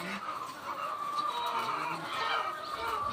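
Steady clucking from many chickens at close range, a dense continuous chatter of hen calls with a light barnyard hum underneath.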